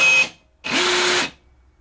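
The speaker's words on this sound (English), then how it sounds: "what happens when I tap the trigger on the Bosch?" Two short whirring motor bursts, a brief one and then a longer one, come from a Bosch 1/4" cordless rivet gun cycling through its full motion after a trigger tap, heard up close with no talking.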